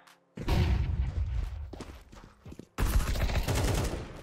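Gunfire in an online shooter match, loud rapid bursts of shots in two clusters separated by a short pause, close and sharp.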